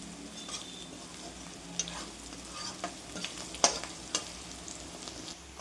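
Onion shallow fries in a pan for paneer curry, a steady soft sizzle beneath occasional sharp clicks and scrapes of a spatula stirring against the pan, close and without talk.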